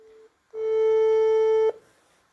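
Telephone call tone on an outgoing call placed again to a minister: a short steady beep, a brief gap, then a longer loud steady tone that cuts off abruptly, with no talk.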